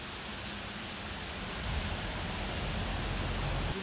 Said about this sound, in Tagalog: Ayan po yung falls dito